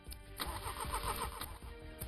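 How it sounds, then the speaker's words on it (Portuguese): A car engine cranks with a weak battery, a labored, uneven churning of the starter repeating in sluggish pulses without catching, heard close and alone. "a bateria não ajuda e o carro só faz assim, ó."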